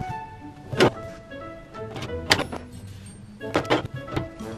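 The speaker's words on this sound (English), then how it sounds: "So I'm just going to cut these sticker sheets out and we'll see what it looks like." A paper cutter trimming printed sticker sheets, heard up close as several separate sharp sliding strokes and thunks spaced a second or so apart, with quiet pauses between them.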